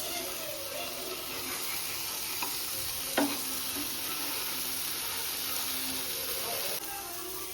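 Creek prawns shallow-fry on a hot tawa with a steady, close crackling sizzle throughout, broken by a sharp clink or two of a spatula stirring the pan.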